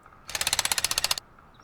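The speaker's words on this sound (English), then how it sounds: "And get out the jackhammer." A jackhammer in the survival video game Rust breaks a large stone for ore, a loud, rapid burst of evenly spaced metallic hammering that runs for about a second, then stops abruptly.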